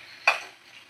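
Chicken being stirred and sautéed in a pan for a spicy home-style recipe, one quick scraping stir over a faint background sizzle, brief and close.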